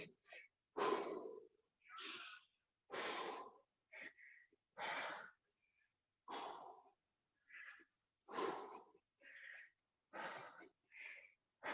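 Slow, controlled breathing during a squash fitness workout, with a steady sequence of audible inhales and exhales in even pulses, close to the mic and fairly faint.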